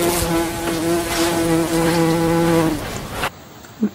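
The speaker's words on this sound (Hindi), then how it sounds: "भवरा घू घू करता है।" A bumblebee buzzes with a steady, droning hum, loud and close, holding for about three seconds before it stops abruptly. A few faint knocks follow.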